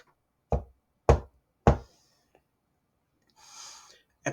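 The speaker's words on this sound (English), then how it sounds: "That's when he heard the knock." Three sharp, evenly spaced knocks on a door ring out loud and close in a quiet scary-story scene, followed by a soft breathy rustle and one more knock at the end.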